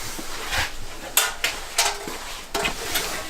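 A modified Pontiac GTO metal oil pan handled in a garage during an LS swap, giving several sharp metallic clanks and scrapes spaced about a second apart, close and fairly loud, with no talking.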